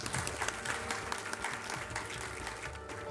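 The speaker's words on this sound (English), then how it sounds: "please have a huge round of applause for her" Applause from the audience at Project WHY's 25-year event as founder Anuradha Bakshi comes to the stage, a steady dense wash of many hands clapping at moderate distance, sustained evenly without speech.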